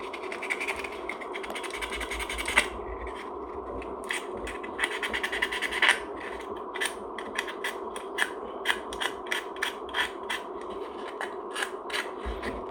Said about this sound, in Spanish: Y lijamos esa parte, tanto de la parte superior como la parte inferior, y sobre todo el centro